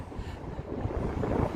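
Evening wind buffets the microphone during an e-bike ride in Las Vegas, a low, rumbling roar that rises and falls unevenly, steady throughout the short stretch with no talking.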